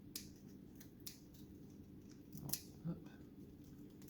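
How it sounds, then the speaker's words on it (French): Scissors snip through a fragile rolled pastry dough for a revisited quiche lorraine, a few faint, crisp cuts spaced apart under a quiet voice in a kitchen. "On va venir tailler un petit peu notre rouleau avec un ciseau."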